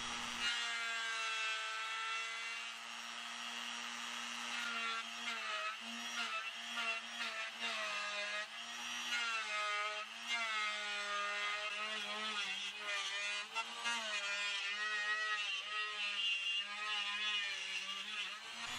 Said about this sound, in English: switch to a router to finalize the shape of the control cavity.